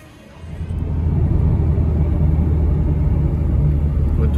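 A Peugeot 205 GR driving on a snowy return trip, its engine rising into a loud, steady low rumble heard from inside the car.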